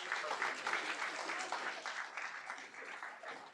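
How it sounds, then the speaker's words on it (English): Audience applause at a school board meeting, a steady roomful of clapping filling the whole span at moderate loudness with a faint murmur of voices beneath. "Give everybody one more round of applause."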